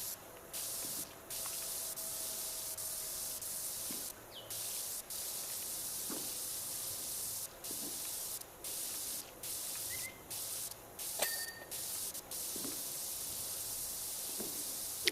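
Pressure washer spraying in the video game PowerWash Simulator 2: a steady, close hiss of water jet that runs almost continuously, broken by a few short pauses.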